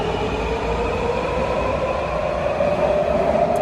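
A train passes at steady volume with a continuous rumble of rolling wheels, a faint high tone running over it. No one speaks.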